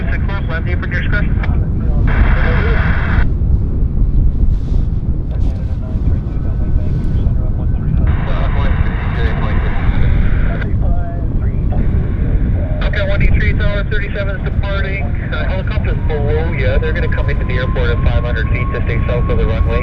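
Airplane landing on runway 26 left at Vancouver airport, a loud, continuous engine roar that fills the scene while radio voices talk over it throughout.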